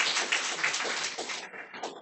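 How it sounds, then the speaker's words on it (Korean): Brief burst of clapping from a church congregation welcoming a member, a dense patter of many hands sounding close and steady, fading slightly toward the end. "박수로 환영을"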